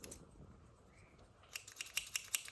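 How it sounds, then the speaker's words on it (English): Several quick, crisp snips of scissors cutting denim follow one another in an irregular rhythm, close and fairly quiet. "I just went through with scissors or little snips"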